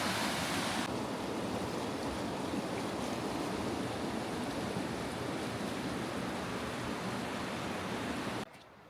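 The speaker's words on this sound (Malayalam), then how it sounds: "അപ്പോൾ അരുവികളൊക്കെ നല്ല രസമായിട്ട് കുത്തിയൊലിച്ച് ഒഴുകുന്നുണ്ട്" Mountain streams swollen after a day of heavy rain at Cradle Mountain, gushing in a loud, even broadband roar that runs steadily before cutting out near the end.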